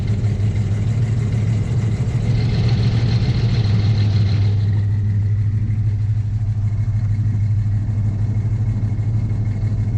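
A 1973–1987 GMC/Chevy C10 pickup engine idles steadily after a cold start with the hood open, a deep continuous rumble with a faint high whine that fades partway through, no talking.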